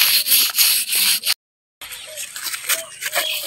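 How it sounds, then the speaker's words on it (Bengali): Raw pangas fish being rubbed clean with leaves, a repeated scraping, rustling friction with a short silent gap midway, close and fairly loud. "তো এই পুরোটা পাঙ্গাস মাছ আমি এইভাবে ঘষে নিব।"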